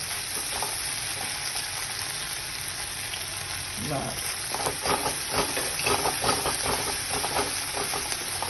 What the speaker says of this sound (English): we're going to throw in some soya sauce